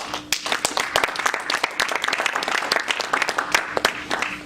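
A church congregation applauds, a dense, lively patter of many hands clapping close by that holds steady throughout.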